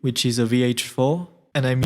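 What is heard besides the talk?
No everyday noises stand out.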